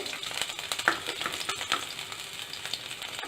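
Garlic frying in a teaspoon of hot ghee for tomato paneer soup, a soft, steady crackling sizzle with a few sharper pops and light clicks, close but quiet, with no voices.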